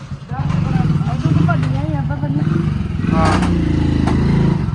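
A motorcycle engine idles and putters with a steady low rumble close by, while people talk over it.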